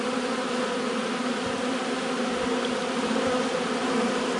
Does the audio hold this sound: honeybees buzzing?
yes